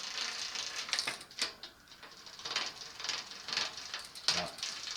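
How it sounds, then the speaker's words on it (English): A Sturmey Archer RX-RF5 five-speed bicycle hub gear rattles in fifth gear, giving irregular dry clicks and ticks over a steady mechanical whir for about five seconds, fairly close. "And fifth gear got some rattling going on there as well."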